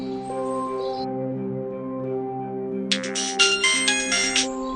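A phone rings for an incoming call, a bright electronic ringtone that starts about three seconds in and plays over a steady background of sustained tones.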